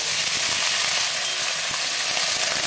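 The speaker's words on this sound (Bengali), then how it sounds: "ব্রকলিটাকেও একটু ভেজে নেব" Broccoli frying in hot mustard oil, a continuous bright sizzle with faint stirring clicks, close and steady with no talking.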